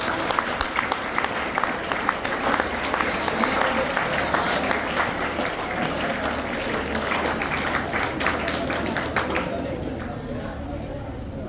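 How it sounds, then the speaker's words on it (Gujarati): An audience at a school farewell ceremony for a departing teacher claps steadily, a dense, fairly loud wash of applause that holds for the whole stretch and thins slightly near the end. "તાળીઓના ગડગડાટથી વધાવીશું."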